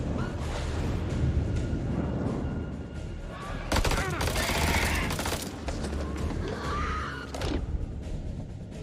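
Rapid gunfire and metallic reloading clatter in the horror video game House of Ashes, loud bursts and mechanical clicks packed together with faint voices underneath.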